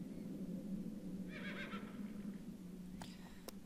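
A horse whinnies briefly in the video game The Black Mirror, a short, faint, high neigh rising over a steady low ambient hum. Two sharp clicks follow a moment later.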